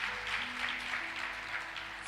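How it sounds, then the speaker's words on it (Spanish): Applause from a church congregation during a sermon, a steady, moderately loud spread of many hands clapping, with a low musical hum underneath. "le damos un fuerte aplauso a Cristo"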